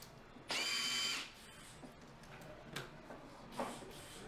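A battery-powered impact driver drives a screw in one short, whirring burst near the start, followed by faint clicks and handling noises in a quiet room.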